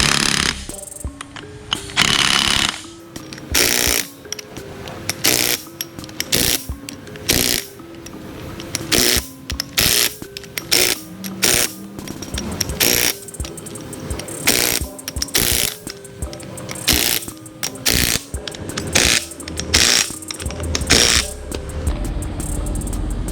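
A ratchet clicks in repeated rapid bursts while tightening screws on a truck's positraction (posi) unit, with loud close ratchet pawl strokes and short pauses between runs of clicking.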